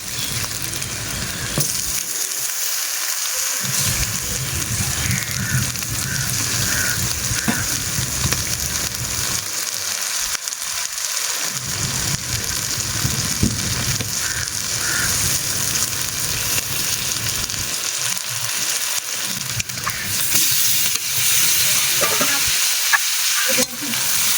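Chicken pieces frying in a pan, loud continuous sizzling close by, with spatula stirring and scraping recurring through the long stretch.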